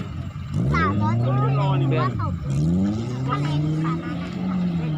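At a racing practice track, car engines rev and accelerate in repeated rising and falling sweeps, loud and close, while people talk over them.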